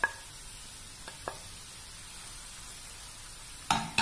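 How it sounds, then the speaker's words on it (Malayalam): Onion and green chillies sauté in a pan with a soft, steady sizzle, broken by a few clinks and scrapes of a stirring utensil at the start, middle and end. "നന്നായിട്ടൊന്ന് നല്ല ഉള്ളി ഒന്ന് വഴന്ന് വരുന്ന വരെ ഒന്ന് വഴറ്റിയെടുക്കാം."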